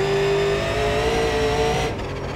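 A Super Late Model race car in the iRacing sim drones steadily at high revs on an oval, loud and continuous, the engine tone holding almost constant before dipping slightly near the end.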